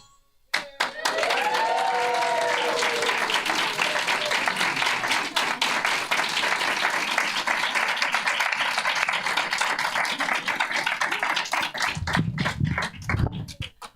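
Sustained audience applause after a fifth grade school play, a dense steady wash of many hands clapping for about ten seconds, with brief cheering near the start and someone speaking as it fades.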